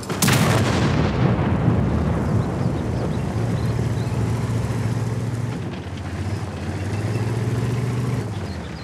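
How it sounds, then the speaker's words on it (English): A Type 5 Heavy tank's gun fires in World of Tanks with a loud, booming blast at the start, followed by a long rumbling tail of engine and battle noise and no talking. "the power of the Type 5 Heavy when it gets to shoot a lightly armored tank in the side"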